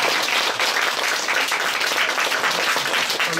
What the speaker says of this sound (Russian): Аплодируем Дмитрию, он очень волновался.